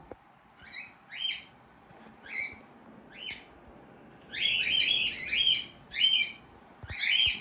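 Pet birds chirp indoors in short, high bursts, sparse at first, then in denser back-to-back clusters, fairly close and moderately loud over a quiet room hum.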